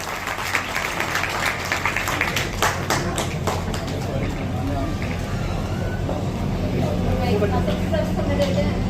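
Audience clapping in a hall to welcome a guest at a community ceremony in Faridabad where a cabinet minister releases a marriage introduction booklet, with dense applause running under an announcer speaking through a loudspeaker.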